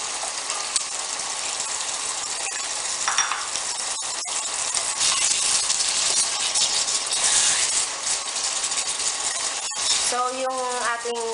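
Chicken liver for adobo sautés in a pan with a dense, continuous sizzle and occasional utensil clicks and scrapes, and a brief voice near the end.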